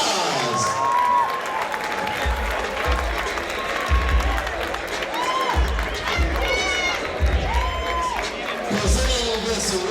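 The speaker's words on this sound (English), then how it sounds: "Ladies and gentlemen, let's give these warriors a big round of applause." A crowd at a women's 132 lb boxing event applauds and cheers steadily for the fighters, with whoops and an announcer's voice through the clapping.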